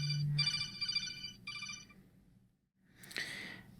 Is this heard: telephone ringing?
yes